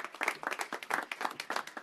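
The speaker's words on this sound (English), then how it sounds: "You can clap for her." An audience claps at a press event announcing that schools are lifting a cell phone ban: a brief burst of scattered hand-clapping, close and fairly lively, fading out within two seconds.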